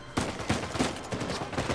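Gunfire in the video game Uncharted 4 comes as a quick run of about six fairly quiet, evenly spaced shots, with no speech over it.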